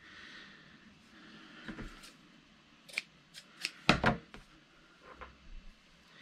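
Scissors snip through a piece of cheesecloth at a craft table, a few quiet separate cuts with one sharper crisp snip in the middle, near and faint with no talk.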